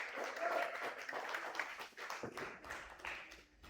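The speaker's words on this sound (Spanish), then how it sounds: "Dale un fuerte aplauso al Señor, mi amado hermano" A church congregation claps in a quiet, uneven patter of hands, faint and a little distant, swelling and easing over a few seconds.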